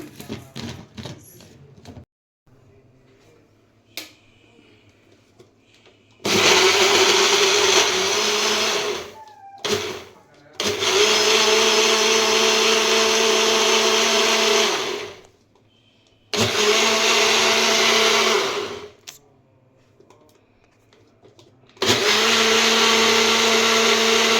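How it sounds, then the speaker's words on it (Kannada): Kitchen blender whirring loudly through a strawberry milkshake in four separate bursts, each several seconds long, with quiet pauses and small clatters between runs. "ಈಗ ಇದನ್ನು ಚೆನ್ನಾಗಿ ಬ್ಲೆಂಡ್ ಮಾಡ್ಕೊಂಬಿಡೋಣ."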